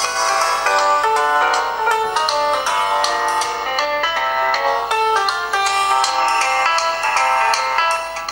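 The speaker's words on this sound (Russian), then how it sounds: "Несмотря, что динамик всего лишь один, звук очень громкий, и пропустить его будет просто невозможно." Ringtone melody plays from the single loudspeaker of a Highscreen Hercules phone, a loud, bright electronic tune of repeated notes that continues steadily for about eight seconds.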